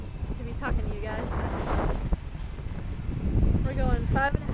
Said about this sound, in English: It's probably way too windy for me to be talking to you guys.